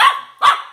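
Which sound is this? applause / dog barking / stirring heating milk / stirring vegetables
dog barking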